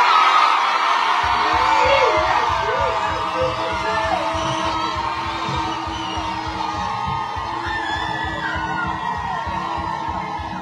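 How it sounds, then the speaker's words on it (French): A large, excited crowd in Martinique screams, whoops and cheers for Miss France 2025, a loud sustained roar swelling near the start and holding steady with scattered shouts, over a rhythmic low pulse of music or drumming. "Je veux vous entendre crier"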